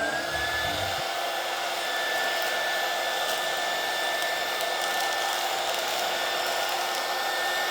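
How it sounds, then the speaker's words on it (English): A heat gun shrinks plastic wrap around a stack of carbon fiber plates. It gives a loud, steady blowing roar with a high whine, starting abruptly and running unbroken throughout. "Then we just seal it up and now we just heat shrink them."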